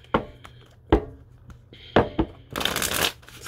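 Tarot cards are shuffled by hand in close, crisp bursts: several separate taps and flicks, then a longer riffling flutter at the end, with no one talking.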